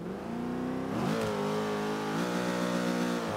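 Hennessey Venom GT engine in Forza Motorsport 5, loud and close: a sustained harmonic rumble that climbs in pitch around the one-second mark, settles, then rises again in a second rev, with no talking.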